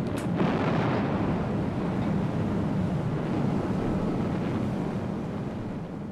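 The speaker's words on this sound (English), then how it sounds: "A broadside of all four turrets pulverized the German positions with a ton of shells every" HMS Belfast's four gun turrets firing a broadside of shells, heard as a sustained heavy rumble and roar with a sharp blast at the start, dense and steady throughout.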